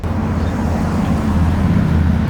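A Subaru STI engine drones low and steady from inside the car, a loud rumbling hum with road noise that holds constant throughout, with no talk over it.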